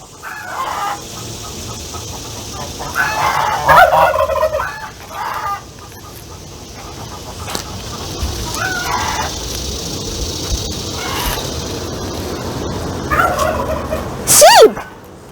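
A male turkey gobbles at a colonial plantation farmyard among other fowl, with a few short bursts of calls spread over the clip and a louder, sharper call near the end against a steady outdoor background.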